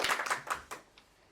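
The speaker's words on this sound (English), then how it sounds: "why are you not clapping for Christina?" A handful of scattered hand claps from the audience at a club meeting for a speaker, four or five close sharp bursts that thin out and fade within about a second.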